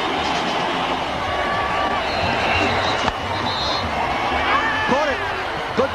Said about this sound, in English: And the crowd's jumping here at New Queen's Park.